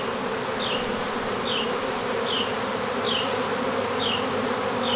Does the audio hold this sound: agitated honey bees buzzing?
yes